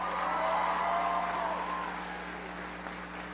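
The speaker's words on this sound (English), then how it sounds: "Please give him a big round of applause." Broad, steady applause from a crowd fills the clip, slowly fading slightly toward the end.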